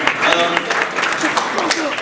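Audience clapping at a convention Q&A panel, a short burst of applause in a crowded room with voices mixed in, fairly close and moderately loud throughout.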